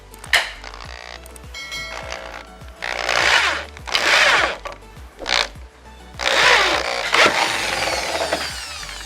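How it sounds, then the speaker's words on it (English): A power drill drives a screw into pallet wood in several bursts. Whirring, grinding runs of two to three seconds alternate with short gaps and small clicks, close and fairly loud. "Slow line with the drill with a little force."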